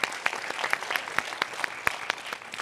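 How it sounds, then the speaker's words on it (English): Community town hall audience in Atlanta applauding a panelist, a close, lively patter of many hands with sharp individual claps standing out, continuous throughout. "round of applause for Shanti Das"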